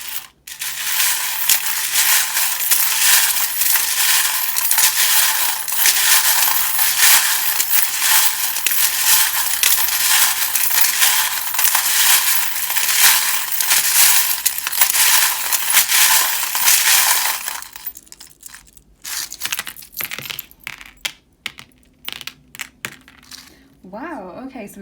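Tarot charms shaken together in the hands, a dense, loud metallic jangling and clinking that runs continuously for about eighteen seconds, then stops abruptly, leaving a few softer scattered rattles.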